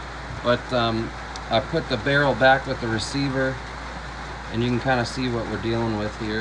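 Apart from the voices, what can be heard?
rain on a tin roof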